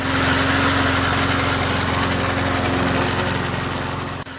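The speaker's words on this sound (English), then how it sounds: "I hear it every time my new Toro Z-Master 4000 Zero Turn starts up" A Toro Z-Master 4000 zero-turn mower engine runs steadily, a close, rumbling, buzzing drone that stays even and eases slightly toward the end, with no speech.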